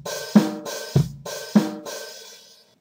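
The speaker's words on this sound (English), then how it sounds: "if we put these closed notes on the beat, it's going to sound like this." A MIDI drum pattern in Reaper plays with closed hi-hats ticking on each beat alongside kick and snare, a short loop heard cleanly without voices.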